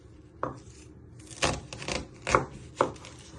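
A knife chops an onion on a cutting board in four or five distinct, close thuds spaced unevenly, with quiet pauses between strokes.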